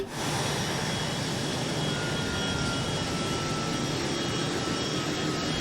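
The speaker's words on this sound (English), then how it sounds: "Get our flaps down and disengage autopilot now. Landing gear down." Cessna Citation Mustang C510 light business jet in a flight simulator, its steady, loud jet engine roar filling the cabin continuously with no talk, as the landing gear comes down on approach.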